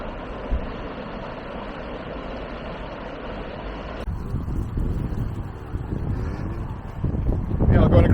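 Strong wind buffeting the microphone while crossing a bridge over the estuary near Ullswater in the Lake District, a loud continuous roar that gusts harder toward the end, with traffic-like rumble underneath.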